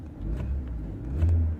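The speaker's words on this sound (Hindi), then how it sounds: "कितना एक्सीलेटर दबाने से गाड़ी का इंजन कितना घूमता है।" A car engine idles low and steady in neutral, its hum rising briefly as the accelerator revs it once near the end, with no voices.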